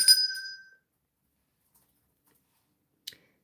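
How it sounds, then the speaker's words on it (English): A small bell rung once during a livestream, a bright, clear ding that rings out and decays over about half a second, followed by silence and one faint click. "I think that deserves a bell."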